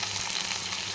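Onions hitting a hot iron pan over medium flame sizzle and fry with a steady, dense hiss, close and continuous.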